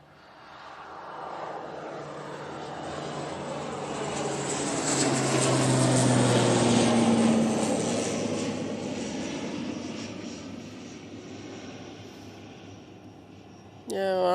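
An Emirates airliner at Manchester Airport passes with jet engine roar that swells over several seconds to a loud peak, then slowly fades, with a distinct whine sliding through the noise; a sharp burst of talk enters at the end.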